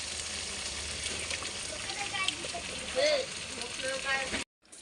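Salt-and-turmeric-rubbed mutton frying in a pan after the masala has been cooked down, a steady close sizzle with light stirring clicks, cutting off abruptly near the end.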